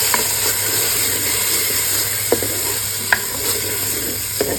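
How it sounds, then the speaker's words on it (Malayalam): Fruit frying in a little coconut oil in a hot clay pot gives a steady close sizzle throughout, with a few short clicks of stirring or scraping against the pot. "അപ്പോഴത്തേക്കും നമ്മുടെ മൺചട്ടി ചൂടാവും. വളരെ കുറച്ച് വെളിച്ചെണ്ണ. ഇതിലേക്ക് നമുക്ക് ഈ പഴം ചേർക്കാം."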